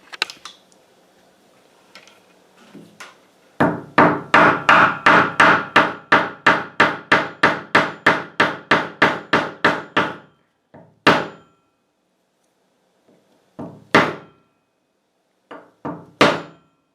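A rapid run of sharp metallic hammer strikes driving a 3/8 copper cap onto a copper pipe end, about fifteen evenly spaced blows, then a few scattered taps after a pause. Loud and close.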